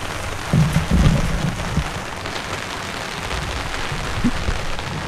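Steady rain pattering and hissing on surfaces, a dense continuous wash with a few heavier low thumps near the start.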